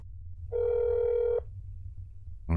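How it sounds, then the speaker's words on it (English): Rotary phone dialing in the game That's Not My Neighbor, heard as a single steady buzzing tone lasting nearly a second over a low rumbling background, followed by a brief louder sound at the end. "This number is always annoying to dial."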